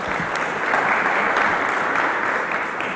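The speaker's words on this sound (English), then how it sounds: "please, let's give them a round of applause" A summit audience gives a round of applause for partner organisations, with a loud, dense, even wash of many hands clapping together that holds steady throughout, close and continuous with no talk.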